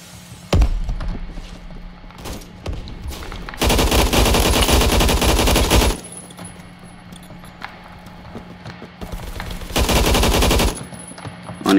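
Bursts of sustained automatic fire from an AUG HBAR light machine gun in Phantom Forces ring out loud and close, two long strings separated by quieter stretches with a few stray shots.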